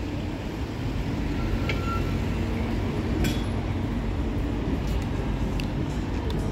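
A metro train gives off a steady, loud rumble with faint metallic clinks and squeaks scattered over the continuous drone.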